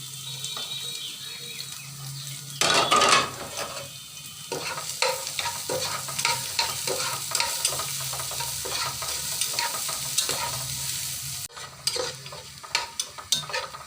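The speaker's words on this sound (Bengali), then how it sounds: "এই তেলের মধ্যে আবার পেঁয়াজগুলো দিয়ে দেবো আমি। পেঁয়াজগুলো লাল লাল করে ভেজে নেব।" Onions frying in hot oil for a Bengali garlic bhorta, a steady close sizzle with repeated stirring scrapes and clinks throughout, and a louder burst of sizzling early on when the onions are moved.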